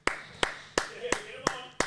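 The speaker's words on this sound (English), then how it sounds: "a big round of applause for Tobler" A few people clap for a guest in a studio. It comes as six sharp, evenly spaced claps, close and dry, rather than full audience applause.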